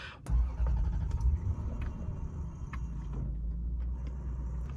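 A used car's engine starts with a sharp burst and then settles into a low, steady idle rumble, with a few faint clicks over it.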